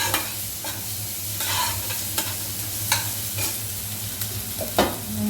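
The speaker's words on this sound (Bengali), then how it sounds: "এটা পুরো বাটার দিয়ে ফ্রাই হচ্ছে, তেল দিয়ে।" Maggi noodles with capsicum, tomato ketchup and Maggi masala fry in butter, making a steady close sizzle with repeated spatula scrapes and taps as they are stirred, and no talking.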